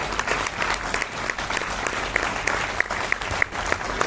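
A crowd claps loudly and continuously to welcome Gupta ji, dense applause with a few sharper individual claps standing out near the end.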